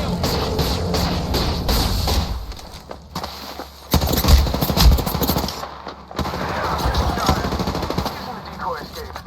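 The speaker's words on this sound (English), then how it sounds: "Oh, they're shooting at me." Rapid automatic gunfire in the video game Titan Halo, loud sustained bursts that break off and resume, mixed with other game effects.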